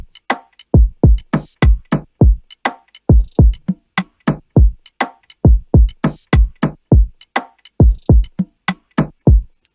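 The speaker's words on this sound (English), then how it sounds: "let's add the kick" A punchy kick drum thumps in a steady, syncopated afroswing groove, each deep hit decaying quickly, with lighter percussion hits and a brighter sound layered between the beats.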